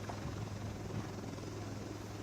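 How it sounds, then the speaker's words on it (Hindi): An HAL Light Combat Helicopter Prachand in flight gives off a steady, droning rotor hum with a low, even throb. It is constant and fairly loud from start to finish, with no voices heard. "पहला स्वदेशी लड़ाकू लाइट कॉम्बैट हेलीकॉप्टर जो देश को आज मिल गया है"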